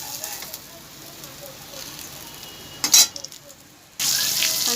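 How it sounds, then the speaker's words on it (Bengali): Slices of brinjal fry in oil with a low, steady sizzle, broken by a brief louder burst near the end and then a sudden stronger hiss as the pan flares up. "আমি এবার ভেজে নিচ্ছি বেগুনগুলো।"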